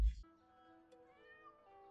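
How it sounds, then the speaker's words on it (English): A cat in an anime episode gives one drawn-out, tonal meow after a brief thump, heard clearly over quiet background sound. "Looks like the same cat from the Lupin"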